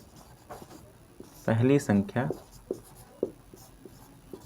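Pen or chalk scratching out a math conclusion by hand, soft intermittent strokes ticking in short bursts, with someone speaking partway through.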